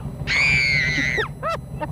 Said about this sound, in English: You don't have to scream.